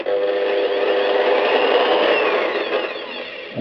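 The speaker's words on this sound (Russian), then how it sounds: "Сейчас мы послушаем дрель в работе." A Triton-tools TDU-950 corded impact drill runs in reverse at minimum speed, giving a steady, close, continuous motor whine with a faint rising tone and no talking.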